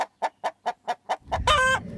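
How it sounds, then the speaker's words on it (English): A chicken gives its alarm call to warn the flock of danger: six or seven sharp, evenly spaced clucks close to the microphone, then a louder, drawn-out squawk over rising background rustle. "we have an alarm call. This is to signal danger and is to warn other birds within the flock."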